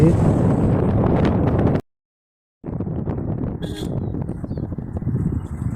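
Loud, gusty wind buffets the microphone in a rough rumble, cutting out briefly to silence before roaring back with faint rustling.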